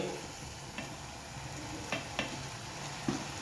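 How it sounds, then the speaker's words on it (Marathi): Leftover cooked rice being stirred into a sizzling masala of onion, tomato and capsicum in a pan, a steady fry hiss with a few sharp scrapes of the spoon, close and alone. "आणि आता आपण रात्रीचा राहिलेला भात टाकणार आहे।"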